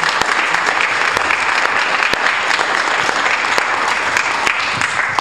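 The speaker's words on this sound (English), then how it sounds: "it's a special round of applause for them" Attendees at a community energy board of directors meeting give a round of applause, a full, even patter of many hands clapping continuously throughout at steady loudness, with no talk over it.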